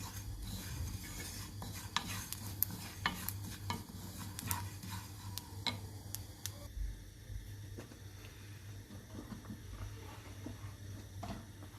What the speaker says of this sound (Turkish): Ve bunları biraz kavurduktan sonra üzerine pekmezimizi koyup koyulaşıncaya kadar karıştırıyoruz